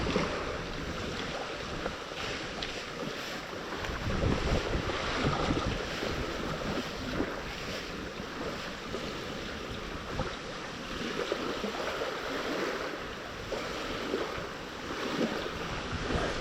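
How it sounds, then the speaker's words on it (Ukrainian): Wind gusting and waves churning on open water during a feeder fishing session within a city, a steady rough roar with rising and falling gusts, close to the microphone and without talk. "А хвилі, як на морі."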